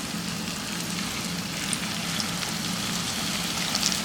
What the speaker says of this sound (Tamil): இப்போ நான் வந்து மிக்ஸ் பண்ணி வச்சுருக்கிற உருளைக்கிழங்கை சின்னதாக போட்டு பக்கோடா போல் பொரிச்சு எடுத்துக்கிறேன்